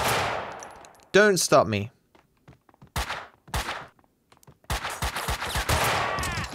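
Bursts of gunfire from the video game Max Payne 2 crackle in rapid clusters, broken by short pauses, while a voice speaks briefly between shots.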